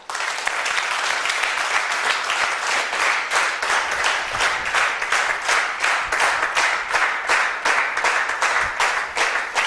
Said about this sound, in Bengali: এই জন্য সবাই সবার জন্য করতালি হবে